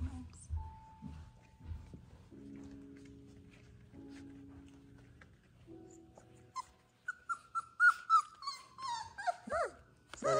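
Young Ocoee River Doodle puppies play and wrestle, giving soft whines and tones early, then a quick run of growls, yips and squeals near the end, under occasional quiet talk.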